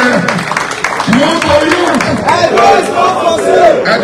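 A crowd claps and cheers for the women at an Edo 2024 election youth gathering: steady loud clapping under shouts and voices, close and continuous.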